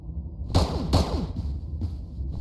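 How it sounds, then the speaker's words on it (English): Arcade guns firing in a horror video game, two sharp loud shots close together followed by fainter, echoing reports that fade out. "Oh, it's arcade guns."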